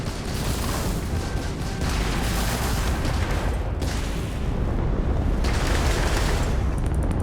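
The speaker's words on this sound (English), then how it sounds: "Hit with the missile." A missile strike exploding in the space game Starfield during a ship battle, a loud sustained roaring rumble of blasts and booms that fills the whole stretch without pause.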